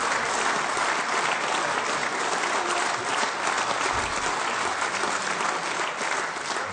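Sustained applause fills a parliamentary meeting chamber, a dense, steady clapping from many hands that carries on loudly and evenly throughout without a break.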